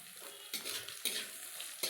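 Dried red chillies, green chillies, cumin and black cumin seeds fry in hot oil in a pan, a steady close sizzle broken by three sharp scrapes of a stirring spoon.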